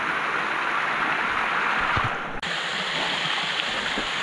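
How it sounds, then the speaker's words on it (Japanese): Three-tier 30 metre waterfall on a mountain stream, a steady broad roar of falling water that fills the whole clip, close and loud, with no voices. "ここが3段30メーター滝の最初の1段目。"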